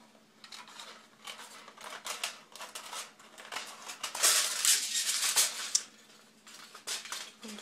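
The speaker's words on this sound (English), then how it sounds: "now I just need to trim all this excess foil off" Scissors trim excess embossed foil in a craft setting, giving a run of soft, close snipping and crinkling sounds that build up toward the middle, with no voices.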